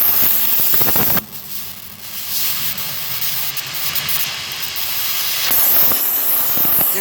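An arc welder burns through heavy rust on 3/8-inch steel plate with no joint preparation. It gives a loud, steady, crackling hiss that runs close and unbroken for several seconds, with quieter noise just before and after.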